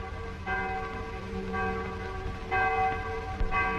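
Church bells ring in slow, regular strikes about a second apart, each tone sustaining and overlapping the next, heard at moderate distance with no talk.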